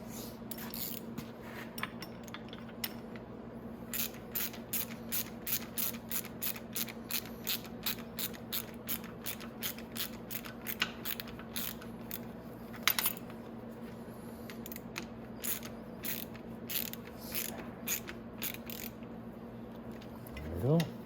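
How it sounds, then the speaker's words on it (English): A ratchet wrench tightens steering column bolts on a Venom E-Madix 1300W electric ATV, making rapid rhythmic clicking bursts in repeated strokes over a steady background hum, close by, with a louder clank partway through. "So now we can tighten these bolts down."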